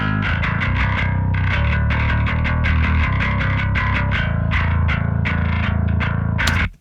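Heavily distorted bass guitar plays a rhythmic riff, gritty and loud, with fast repeated notes and a buzzy, effected tone, soloed without voices.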